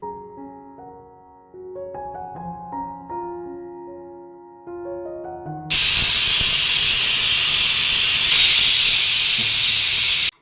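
A kitchen pressure cooker with sambar made from tender tamarind leaves lets out a loud, sustained steam hiss that starts abruptly and rushes on without a break, after a stretch of soft melodic music.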